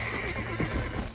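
A horse in the video game Red Dead Redemption gives a loud, close, drawn-out whinny lasting about a second, with faint hoof clops underneath.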